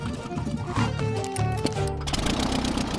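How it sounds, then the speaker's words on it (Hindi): The small engine of a cheap light plane drones steadily with a buzzy, rattling, lawnmower-like tone close by, with some indistinct voices mixed in. "इसकी आवाज लॉन मोवर इंजन जैसी क्यों है?"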